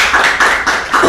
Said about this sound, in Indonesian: Tepuk tangan untuk Wang Chen